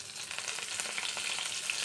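Green chillies, curry leaves and coriander frying in a pan, a short burst of close, lively crackling sizzle with no voices.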